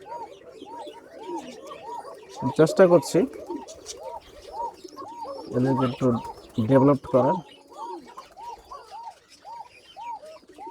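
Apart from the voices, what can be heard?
black Koka pigeon cooing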